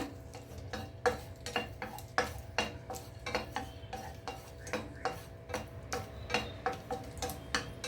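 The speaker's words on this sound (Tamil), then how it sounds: "அடுப்பை ஸ்விட்ச் ஆஃப் பண்ணிவிட்டு தவாவில் உள்ள ஹீட்லேயே வறுத்துக்கோங்க." Cardamom pods dry-roasting on a hot tawa with the flame switched off, stirred in a steady rhythm of close, crisp clicks and light scrapes over a low background hum, with no voice.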